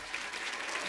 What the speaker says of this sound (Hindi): जोरदार तालियां टाइगर के लिए।